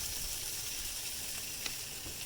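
A pork shoulder gives off a soft, steady sizzle with a faint hiss and a single small pop, heard quietly with no voices.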